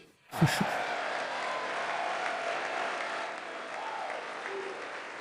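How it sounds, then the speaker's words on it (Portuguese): A chamber audience at a State of the Union address bursts into sustained applause after a brief sharp onset, a dense, steady clatter of clapping heard from a distance with faint murmurs beneath. "Obviamente, só os republicanos aplaudiram."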